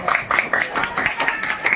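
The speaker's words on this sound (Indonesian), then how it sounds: "Tepuk tangan semua dulu." Audience claps together at an army regional command visit in Ambon, steady rhythmic applause with distinct repeated claps, moderately loud and close.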